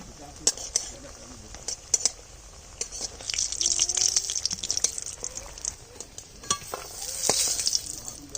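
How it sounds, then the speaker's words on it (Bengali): Pieces of fish caught from a village pond fry in hot oil with a soft, continuous sizzle and crackle, broken by occasional clinks of a utensil against the pan at close range. "এবার বাকি মাছগুলো ভেজে নিচ্ছি আমরা"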